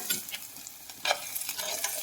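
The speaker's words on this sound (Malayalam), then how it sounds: "ഈ 6 ചെറിയുള്ളി ഈ നെയ്യിലൊന്ന് വഴറ്റിയെടുക്കണം" Six small shallots sautéing in ghee in a pan, a steady soft sizzle with light stirring scrapes, one brief louder stir near the middle, no talking.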